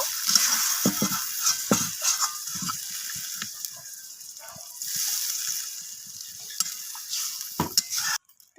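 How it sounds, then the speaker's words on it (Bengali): Water poured into a pot of sautéed vegetables and lentils: a continuous hiss and sizzle as it hits the hot pan, with scattered clinks of a spoon or pot, close by, easing toward the end. "এরপর আমি এখানে প্রয়োজন মতো জল দিয়ে দেব সবজিগুলো সিদ্ধ হওয়ার জন্য"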